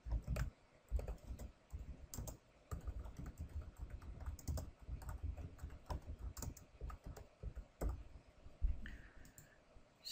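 Typing on a computer keyboard while entering text in Revit 2014 software: a long run of quick, close, crisp key clicks in uneven bursts, fairly quiet and with no talking.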